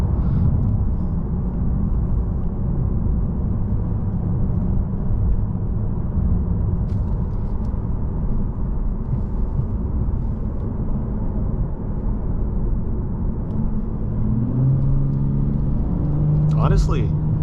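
A steady engine drone from a 2022 Lexus RC350 F Sport driving in automatic mode on all-season tires, with road rumble, a voice talking faintly over it and a brief rising whine near the end.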